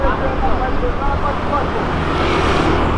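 A Porsche accelerates along an avenue, with a steady engine roar and tyre noise on the road. The loud, continuous sound swells slightly near the end, and a voice talks over it.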